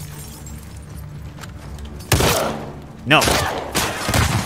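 Gunfire in The Last of Us Part 2 during a hotel shootout: two sharp, loud shots about a second apart, followed by a lower thump, with a voice speaking briefly in between.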